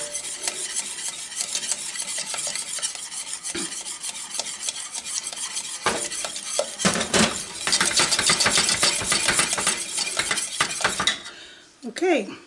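A whisk scrapes and clatters quickly around a bowl as eggs are beaten into a salted caramel walnut pie filling. The rapid rhythmic strokes stay close and busy throughout and grow slightly louder toward the end.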